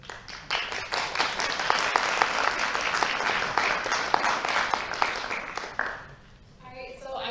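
An audience at a college Phulkari event gives Harman Kaur sustained, full applause with dense overlapping claps and some cheering. It tapers off near the end as a voice starts speaking.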